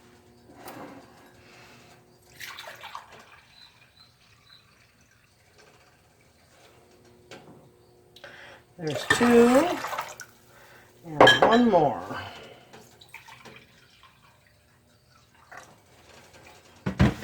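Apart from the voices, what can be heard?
vinegar being poured into a pot of water for brine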